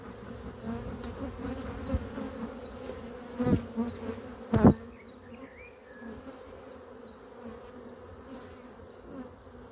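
Honeybees buzz steadily inside an opened hive dripping with honey during a queen rehousing, a dense continuous drone with a couple of brief louder knocks midway.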